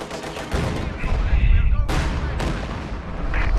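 Battle gunfire from the World War II strategy game Company of Heroes 2, with dense bursts of machine gun fire and heavy booms rolling continuously in a loud, chaotic mix.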